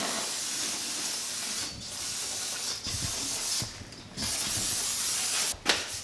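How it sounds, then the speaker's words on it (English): Carb cleaner sprays in bursts from an aerosol can onto brake parts of a Honda S2000, a loud close hiss repeatedly cut by short pauses between blasts. "I'm going to proceed with blasting everything with carb cleaner"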